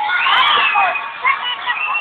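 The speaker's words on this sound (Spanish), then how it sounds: "Aplausos para la número 1." Crowd at a live dance contest cheering and shouting for a contestant, a dense, loud wall of high-pitched voices and whoops sustained throughout.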